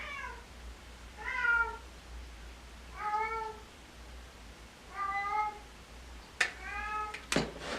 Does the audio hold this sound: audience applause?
no